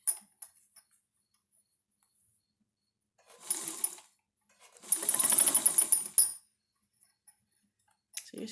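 A sewing machine stitches fabric for a padded baby sling, sewing it over two rings in short bursts: a brief run, a pause, then a longer steady whirring run of a second or so, with light handling clicks in the quiet gaps.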